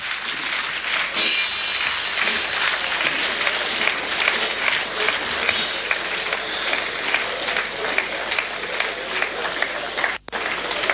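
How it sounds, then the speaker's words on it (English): Loud, sustained applause from a large audience after a speech by Professor P. L. O. Lumumba, a dense continuous roar of many hands clapping that fills the whole stretch, with one brief dropout near the end. "Another resounding applause for Professor Luck Otieno Lumumba"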